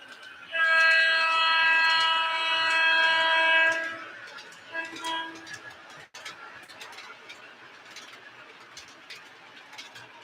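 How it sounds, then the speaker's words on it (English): A model train set runs with its accessories going, opening with a loud sustained horn blast for several seconds, followed by quieter rolling and clicking track noise with a sharp click midway. "We got the trains running, all the accessories going."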